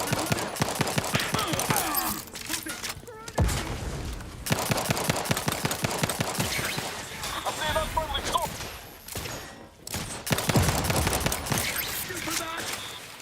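Gunfire and grenades crackle through a firefight in The Outer Worlds 2, with rapid bursts of shots, heavy blasts and brief pauses, loud and continuous across the fight.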